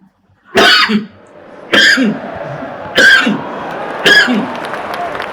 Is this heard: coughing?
yes